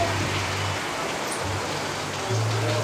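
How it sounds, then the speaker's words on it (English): Steady rain falls on the Amalfi Coast, a dense, even hiss that fills the whole clip with a constant low rumble underneath and no voices. "Not supposed to be raining right now,"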